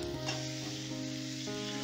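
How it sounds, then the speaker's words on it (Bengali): Sliced onions fried with a little salt in a pan hiss and sizzle steadily and close up, a continuous bright crackle with no voices. "এবার এই পেঁয়াজটাকেও হালকা লাল লাল করে ভেজে নেব"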